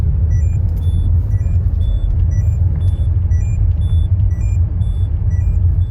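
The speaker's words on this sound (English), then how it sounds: "if you drive without a seatbelt on, it gives you a little warning chime telling you to buckle up" A Citroën C6 seatbelt warning chime repeats in a steady pattern of soft, high tones over the constant low rumble of the moving car.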